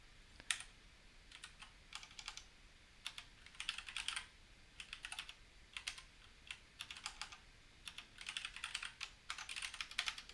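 Rapid bursts of typing on a computer keyboard, clicking keys in uneven clusters with short pauses, close and fairly quiet, no voices.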